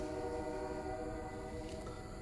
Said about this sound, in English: And then while that was going on, we have a train.